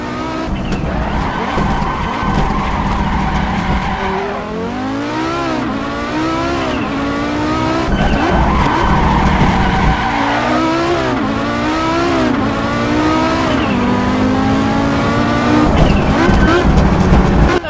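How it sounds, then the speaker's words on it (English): A race car engine in Assetto Corsa revs through repeated gear shifts, with a fluttering turbo chatter as the throttle lifts, loud and continuous with no talking. "you'll be able to hear the turbo flutter when you come off the gas"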